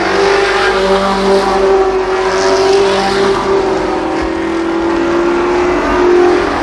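ARCA Pro 4 race cars at Columbus Motor Speedway in 1993, a loud, steady, close engine drone held at high revs throughout, with several cars blending together as they race around the oval, with no talk.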